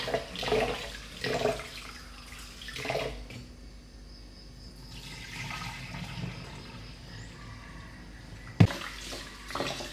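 Glutinous rice washed in water for boiled lemang, a close splashing and sloshing that is busiest at the start, softer running water through the middle, and a sharp knock near the end; no talking.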